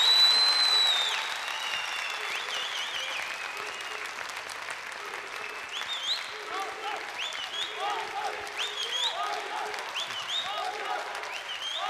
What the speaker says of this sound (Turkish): Bir alkış gönderir misiniz içeri?